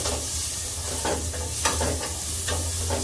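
Onions frying in a pan with a little salt, a steady close sizzle broken by scraping stirs of a spoon through the slices, with no voices.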